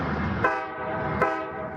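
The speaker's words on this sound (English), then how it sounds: "freight trains rumble by" A freight train rumbles past at a city crossing, its sustained horn blaring loud and steady with a couple of sharp clanks cutting through the blast.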